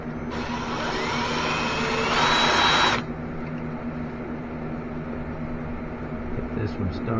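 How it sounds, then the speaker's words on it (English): A power drill whirs at close range for a few seconds, drilling a mounting hole for reverse lights on a Ranger RT188 trailer, its pitch rising as it bites in before it stops, leaving a low background hum. "Now all I need to do is just drill the hole to mount this in here."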